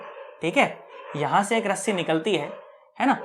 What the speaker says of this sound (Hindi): गली के कुत्ते बहुत भौंक रहे हैं